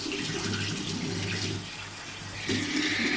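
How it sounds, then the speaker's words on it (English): Running tap water splashes steadily as a clay face mask is rinsed off, briefly softening in the middle before swelling again, with no talking. "so I'm gonna rinse this off"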